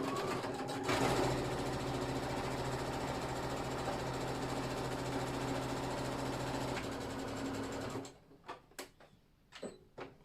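A sewing machine runs steadily while stitching a seam on a pair of Dawn jeans, loud and close with an unbroken motor whir for about eight seconds, then stops, leaving a few soft handling clicks and bumps.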